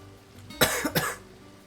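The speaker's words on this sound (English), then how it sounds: "Sorry about the coughs, folks." Two quick, harsh coughs close by, one right after the other, in an otherwise quiet room.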